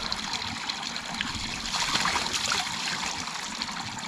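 A generously flowing roadside fountain along the Lycian Way near Faralya, Turkey, pours water in a steady, close, rushing splash with no pauses.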